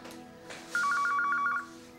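A telephone rings in a Dutch TV comedy-drama scene: one short burst of rapid trilling bell pulses, moderately loud, rising out of a quiet indoor room tone with no speech.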